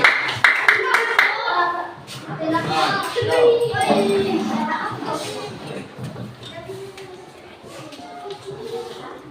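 Children clap their hands in a classroom activity, a short burst of uneven claps at the start followed by shuffling and chatter as young voices and an adult keep talking underneath.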